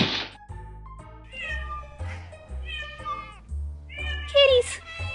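Several cats meow in close succession, with clear, drawn-out calls that rise and fall, ending in a louder, higher-pitched meow.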